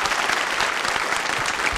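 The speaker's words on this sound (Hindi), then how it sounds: "तालियां जोरों से बजाइए उनके लिए" A brief, loud burst of applause from the audience at a nursing college quiz show, dense and steady clapping from a crowd with no gaps.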